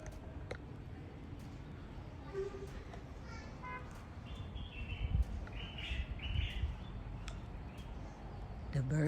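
Birds chirping and calling outdoors beside a small round house in Gambia, scattered short tweets and brief song phrases, moderately faint over quiet background rustle and occasional low noises.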